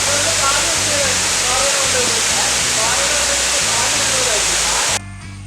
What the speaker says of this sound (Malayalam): വെള്ളച്ചാട്ടം മാത്രമേ ഉള്ളൂ